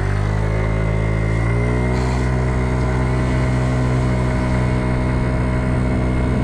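A Kymco Agility 50 scooter with a CVT transmission climbs a hill, its small engine holding a steady, buzzing drone that rises slightly in pitch as it pulls, loud and close with no talking.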